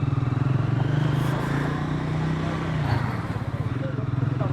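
Triumph Scrambler 400 XC single-cylinder 400cc motorcycle ridden with a pillion passenger, the engine a steady close throbbing drone with slight rises, as a rider talks over it.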